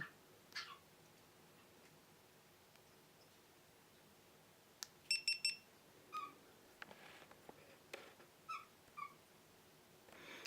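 A GoPro camera, fitted with a SENA GP10-02 Bluetooth audio pack, gives a short series of quiet electronic beeps as it powers on, with a few soft clicks in a quiet room and no talking.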